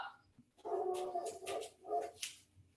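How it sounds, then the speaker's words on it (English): A dog barks repeatedly in the background during an indoor exercise class, several loud yelping barks in uneven bursts close to one another. "Sorry about the dog barking in the background."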